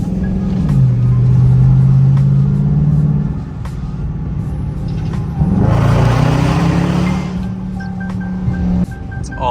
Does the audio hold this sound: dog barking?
no